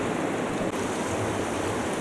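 River waves splash and rush against a raft on a solo rafting trip through the Verkhoyansk Range, making a loud, continuous broadband roar of churning water with no voices.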